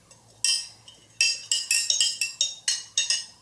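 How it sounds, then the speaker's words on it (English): A glass straw in a green drink makes a run of bright, sharp clinks, about a dozen close taps that start sparse and then come in quick succession, near and fairly loud against a quiet room. "and a glass straw. You can hear it."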